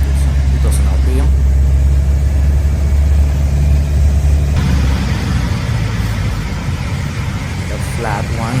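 A light aircraft engine throttled back to 2000 RPM while taxiing, droning loud and steady close by, with the pitch dropping partway through.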